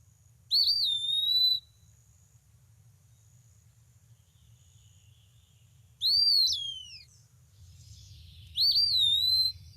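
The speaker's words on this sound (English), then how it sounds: "the forest version of the eastern phoebe is going to be pewee, the eastern wood pewee" Three clear, high whistled eastern wood pewee songs, slurred rising and falling "pee-wee" notes, spaced apart over a quiet background hum in Vermont woods.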